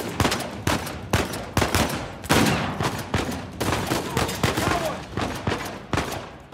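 Gunfire from the video game Uncharted 4: A Thief's End, a rapid series of sharp, close shots in irregular bursts, some clustered like a fusillade, continuing steadily throughout with no talk.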